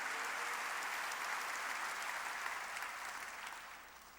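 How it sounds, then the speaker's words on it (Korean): A church congregation applauds during a worship service. Dense, continuous clapping from many hands fills the room, sounding somewhat distant and softening toward the end. "박수로 하나님께 영광을 돌려야 될 거 아닙니까"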